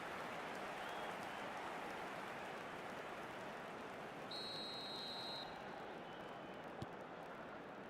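Steady crowd roar fills an eFootball 2026 stadium during a Spain vs Argentina final, a broad continuous wash of noise holding at an even level throughout, with a brief electronic tone sounding midway.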